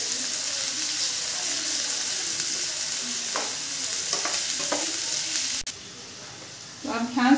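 Finely chopped onion frying in a pan for masala pasta, a loud steady sizzle with a few scraping stirs, dropping quieter near the end before a brief clatter.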